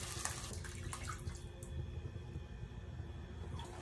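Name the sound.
water being added to a cooking pot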